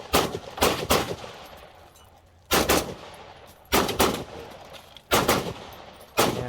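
Zastava ZPAP M70 AK-47 rifle firing at a shooting match: loud, close, sharp reports in short clusters of two or three shots, separated by pauses of about a second while the shooter moves, with no talking.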